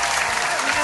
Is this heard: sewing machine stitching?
no